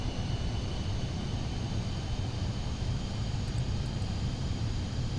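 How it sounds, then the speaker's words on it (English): Airliner engines spooling at takeoff power in Flight Simulator 2024 during extreme crosswinds, a steady loud roar with low rumble and a constant high whine, close and unbroken, with no talking. "Engines to take off."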